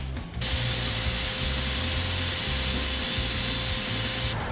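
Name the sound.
belt sander sanding wood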